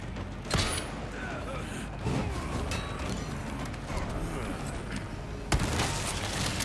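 Gunfire in the Resident Evil 4 Remake video game, sharp shots at about half a second and five and a half seconds over a dense, busy game soundscape of clattering and rumbling effects.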